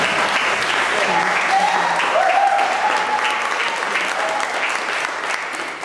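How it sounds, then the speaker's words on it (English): Audience applause at a time bank annual meeting and party, a sustained wash of clapping with a few voices talking briefly over it, fading slightly toward the end. "I think that deserves a clap"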